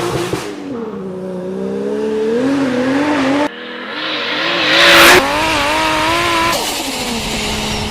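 A Toyota 1JZ-GTE 2.5 liter twin turbo inline six revs hard and close, its pitch rising and falling through sustained loud pulls with a brief cut in the middle and a harsh burst near the top.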